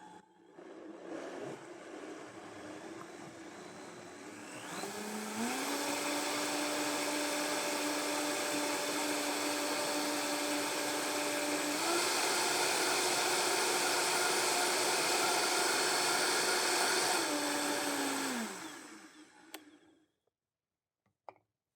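Blender whirring through a cashew sauce, starting with a lower hum, then ramping up to a loud steady high-speed drone for about twelve seconds before winding down and stopping.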